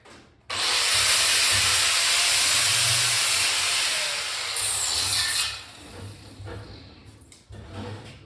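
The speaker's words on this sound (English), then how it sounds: "Little touch with the sander." A power sander smoothing a rebar sculpture of a baby sandhill crane, a loud steady hissing rub for about five seconds before it winds down, followed by quieter handling noise.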